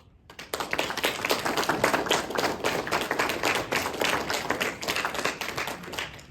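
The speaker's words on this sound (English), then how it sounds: "if you'll join me in one more round of applause for our candidates" Audience applause at a chamber of commerce primary candidate forum in Elko, a sustained dense round of clapping from a crowd that starts abruptly and stays loud throughout.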